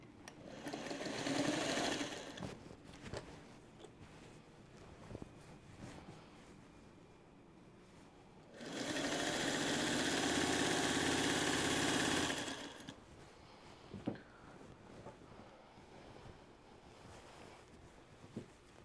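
A sewing machine stitches quilt binding in two runs: a brief burst early on, then a longer, steady whirring stretch of about four seconds, with quiet handling noises in between.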